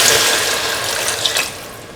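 Water is poured into a cooking pot over a potato and ivy gourd mixture, a loud, bright, continuous splashing rush that lasts about two seconds and fades slightly at the end, with no talking.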